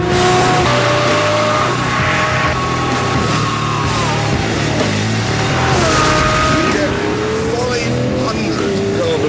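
A Lamborghini Murcielago LP640 with its enlarged 6.5-litre V12 revs loudly and continuously, the engine note rising and falling through gear changes, close up, with music-like tonal layers and a presenter's voice talking over it.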